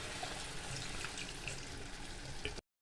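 Water poured into a pan of kofta curry, giving a steady, faint hiss and sizzle that runs for a few seconds, then cuts off abruptly.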